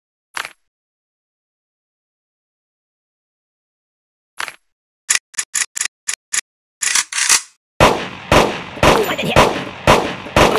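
Gunshots at a shooting range in a mobile video game: two isolated sharp reports separated by a long silence, then a quick series of single shots, building into rapid, loud bursts of fire near the end.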